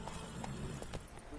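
Roach, the horse in The Witcher 3, gallops with quick, rhythmic hoof clip-clops over a continuous game soundscape, fairly close and steady for a brief moment.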